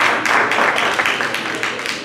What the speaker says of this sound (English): I'd like a round of applause, please